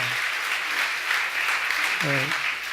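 Church congregation applauding a newly registered member during a daily worship service, a steady, dense wash of clapping that fills the whole stretch, with a brief voice rising near the end.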